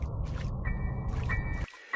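Water sloshes and splashes in a VR horror game as a player wades through it, a continuous low wet churning with a faint tonal hum, cutting off abruptly near the end.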